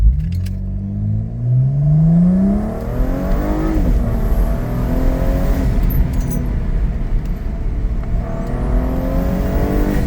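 A 420-horsepower car engine revs up through the gears in manual mode, pitch climbing then dropping at each shift, loud and close from inside the vehicle.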